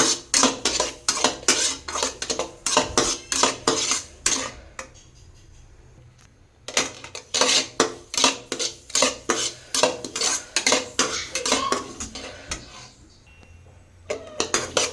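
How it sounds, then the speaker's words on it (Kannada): A spoon scraping and clinking against a pan while rava for vegetable upma is stirred and fried, rapid rhythmic metallic strokes close up, with a short pause partway through. "ಚೆನ್ನಾಗಿ ಫ್ರೈ ಮಾಡ್ಕೊಳ್ಳೋಣ."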